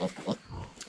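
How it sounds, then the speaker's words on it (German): A pig oinks and grunts on a small farm, several short close grunts in quick succession with a soft, breathy tail afterwards. "Da ist das Schweinchen."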